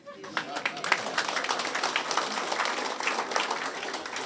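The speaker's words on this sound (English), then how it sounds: "I think you should clap for that." An audience claps at an outdoor government land lease ceremony in Fiji, starting quietly and quickly swelling into steady, moderately loud applause with individual claps standing out near the front.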